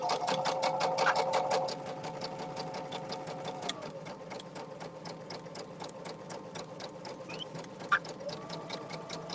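A sewing machine stitches quilt blocks with a fast, even needle chatter, running continuously up close with a couple of small knocks partway through and no talking.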